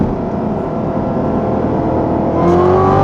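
Corvette Z06 engine droning steadily under load, then rising in pitch as it revs on a paddle-shift downshift near the end, heard from inside the car with no talk.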